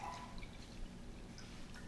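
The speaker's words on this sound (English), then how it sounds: "So we're going to add more water." Water running into the tank of a VEEAPE ultrasonic cleaner as a fresh batch is added, a steady low trickle and splash with a few faint drips, quiet and close, no voices.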